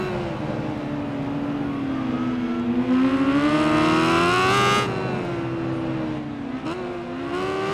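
A 1000cc modified superbike in the Ride 5 racing game screams down a straight, its engine pitch rising and dropping sharply as gears are clicked up, loud and close with no talking.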